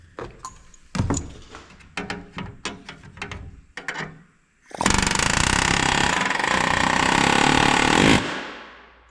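A pneumatic rivet gun drives an aluminum aircraft rivet against a bucking bar: a string of short separate bursts, then one loud sustained hammering run of several seconds that cuts off abruptly, close and with no talking.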